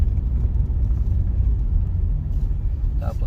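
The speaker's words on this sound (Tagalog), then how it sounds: "mabibilis ang sasakyan" Steady low rumble of fast cars passing on a road in the Eastern Province of Saudi Arabia, a continuous broad traffic roar with no distinct single pass-by, near and fairly loud.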